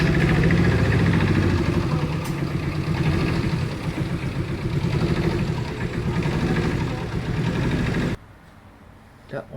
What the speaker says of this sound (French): On démarre le tracteur.